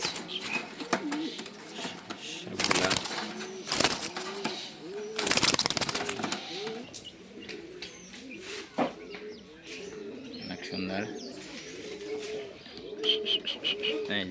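Racing pigeons coo repeatedly in soft throaty rolls, close by, with occasional chirps, wing flaps and loud handling bumps; someone speaks briefly among them.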